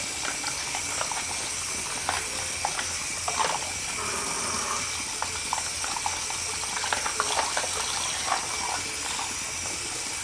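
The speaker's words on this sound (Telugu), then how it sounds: "ఇలా శుభ్రంగా కడుక్కోవాలి ఎంత బాగా క్లీన్ చేసుకుంటే అంత బాగుంటాయి" Running water splashing as korameenu fish pieces are washed by hand, a steady close rush with small clatters and knocks throughout.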